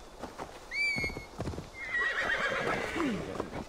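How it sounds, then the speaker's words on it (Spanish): A frightened horse in Assassin's Creed Valhalla gives a shrill, wavering neigh and then a second longer whinny, with clip-clopping hooves and faint background movement throughout. "Mi caballo se asusta el pobre."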